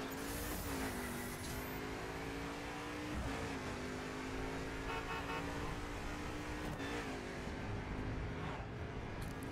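A Mercedes-AMG GT3 race car in The Crew video game drones at steady engine pitch, revving and shifting in repeated rises, loud and continuous with no talk over it.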